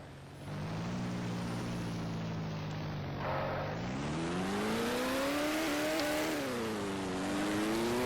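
Engine note of a custom car in the Car Crusher 2 video game, a loud sustained drone that holds steady, then rises in pitch as it revs up and stays high and strained to the end.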